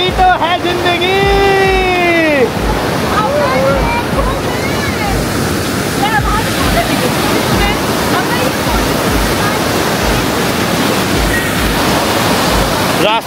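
Loud, steady rush of monsoon floodwater around a bridge in Jibhi, Himachal Pradesh, a broad roar like a waterfall that fills the whole recording while voices talk over it.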